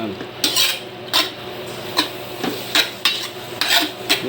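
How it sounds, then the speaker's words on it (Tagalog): Creamy pork mushroom sauce with butter, onion and garlic being stirred in a pan: a spoon scrapes and clinks against the pan in a regular rhythm of about two strokes per second over a faint simmer, with no voices. "haluin na natin siya na haluin hanggang mag-reduce yung kanyang sabaw"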